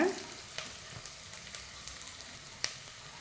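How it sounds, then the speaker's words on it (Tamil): Small onions sautéing in a pan, giving a soft, steady sizzle with light stirring taps and one sharper clink near the end. "இன்னும் நல்லா வதங்கணும் வெங்காயம்"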